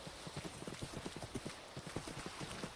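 Horse hooves clip-clop steadily in the Minecraft video game, a quick run of soft, evenly spaced steps heard close and quiet.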